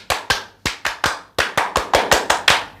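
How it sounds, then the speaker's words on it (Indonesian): Indonesian Scout clapping routine at an anniversary gathering, a group striking sharp, close hand claps in a brisk rhythmic pattern of short bursts and pauses, with no voices. "Sebelum kita lanjut kita tepuk pramuka dulu Pak."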